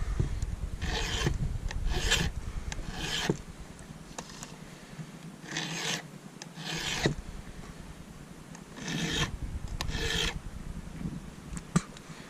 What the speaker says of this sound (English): what I'm doing is I'm cutting these off, or filing them down